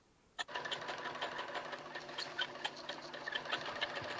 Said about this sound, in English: It's the slowest I've ever seen you sew that.